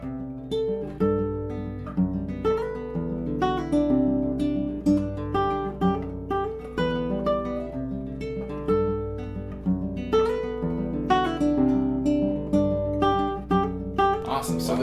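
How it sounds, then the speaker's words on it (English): Fingerstyle acoustic guitar plays a song's melody over a steady arpeggio pattern, plucked notes ringing in an even rolling rhythm up close, with no talking. "Now if we put the melody together with a little arpeggio pattern,"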